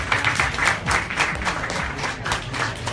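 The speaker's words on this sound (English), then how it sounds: "Can we get a massive round of applause for everyone that's performed today?" An outdoor live music event audience applauds the performers with a sustained burst of clapping from a crowd, fairly loud and steady for a few seconds.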